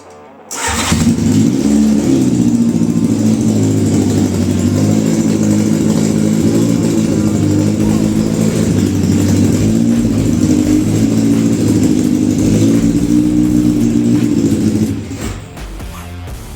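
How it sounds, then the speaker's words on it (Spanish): Engine of a homemade tubular-frame car starts up and idles steadily, a loud, close, continuous rumbling drone with an even throb that holds for most of the span before dropping off near the end. "Tenemos coche encendido."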